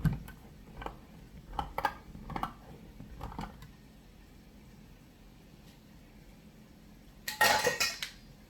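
Opening a tin of chopped tomatoes with its ring pull missing and tipping the contents into a pan: scattered metallic clinks and taps, then a louder clattering scrape near the end, close with quiet gaps between.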